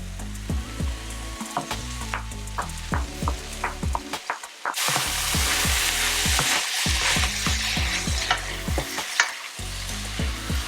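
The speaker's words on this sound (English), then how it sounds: "It's time for the teriyaki sauce to make its way into the wok." Soy chunks and vegetables stir-frying in a wok with teriyaki sauce, a constant loud sizzle broken by rhythmic clanks and scrapes of a spatula against the metal, heard up close.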